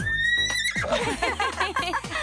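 A horse neighs loudly and close, a high whinny that breaks into a rapid series of descending, stuttering pulses before trailing off, in a cartoon setting where a horse's mane is being dyed and decorated with bows.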